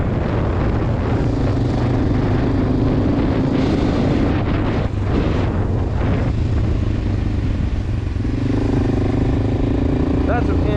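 Harley-Davidson Softail motorcycle riding close by in New York City traffic, a loud steady engine rumble under continuous wind buffeting and street noise, with a voice speaking over it.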